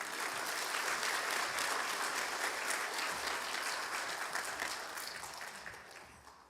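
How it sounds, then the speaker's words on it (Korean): A church congregation at a Sunday worship service claps in welcome for a visiting pastor, a dense, steady wash of applause from a large room that holds evenly and then fades out toward the end. "우리 올라오실 때 다시 한번 우리 박수로 목사님 환영하도록 하겠습니다."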